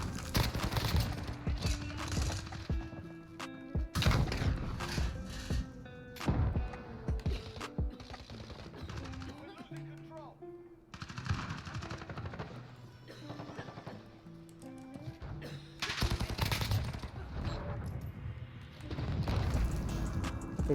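A PP-19 Bizon submachine gun firing in a video game, with repeated rapid bursts and heavy impacts mixed with background music, loud and close, in clusters separated by short pauses.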